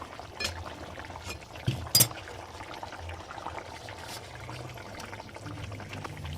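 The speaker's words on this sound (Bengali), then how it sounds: "এবার ডিমটা দিয়ে দেবো।" Eggs drop into a pot of simmering potato curry, giving a couple of soft splashing clinks over a faint, steady bubbling.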